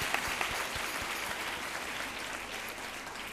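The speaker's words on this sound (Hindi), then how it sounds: "एक बार जबरदस्त जोरदार तालियां फिर" Audience applause at a Hindi comedy show, a dense steady wash of many hands clapping for the whole stretch, moderately loud and unbroken, with no talk over it.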